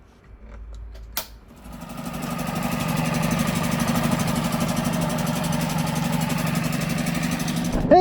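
A Honda 5HP outboard motor runs on a Sea Eagle FastCat12 inflatable boat, rising from a brief start into a steady, loud, buzzing drone that holds close and constant with no talking.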